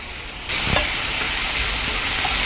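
Capsicum sizzles loudly in a hot frying pan, the hiss jumping up suddenly as it is stirred in, with a brief scrape of the spoon.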